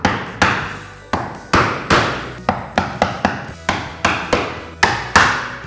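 Solid mallet blows strike a chisel while chopping out a dado rail by hand, about a dozen sharp wooden knocks close by in an uneven, steady rhythm.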